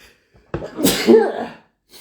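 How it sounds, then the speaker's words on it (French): A single sharp sneeze bursts out close to the mic, with a quick breathy intake before it and a short voiced trailing sound after. "Je voulais pas éternuer en live, mais je l'ai fait."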